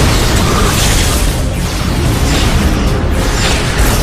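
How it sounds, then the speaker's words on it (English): Sci-fi space battle with photon torpedoes and phaser cannons firing against Romulan ships, a loud, dense wash of booming blasts and rumbling explosions that runs continuously throughout. "Open fire! Photonic torpedoes and phase cannons."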